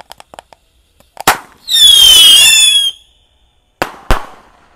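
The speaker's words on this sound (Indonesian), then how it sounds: "Lanjut kita nyalakan roket ini 4 sekaligus ya" Four firework rockets lit at once at night: sharp pops at ignition, then a loud rising whistling screech as they launch together, followed by two crisp bangs, all outdoors and close, with no talking.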